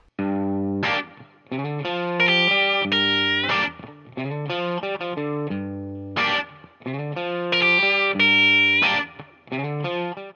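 Distorted electric guitar plays a blues lick of bent notes and quick chordal stabs in short phrases, loud and up close.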